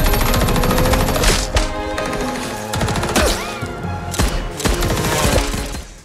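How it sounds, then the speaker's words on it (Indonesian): Action-film shootout with a gunman firing on waves of henchmen: loud rapid volleys of gunfire and crashing, shattering impacts with whooshing effects and a dramatic music score underneath. "Mamang Sei datang sembari menembak para anak buah Finn yang terus berdatangan."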